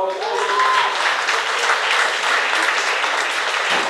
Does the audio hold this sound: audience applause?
yes